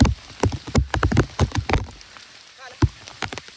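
Heavy rain falls outdoors near a freshwater stream, drumming loudly on a nearby surface in dense, irregular bursts of close, hard patter that ease off briefly before another strong burst.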